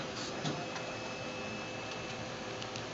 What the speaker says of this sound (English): the wheel's driven by air. So I'm running air through right here, Logan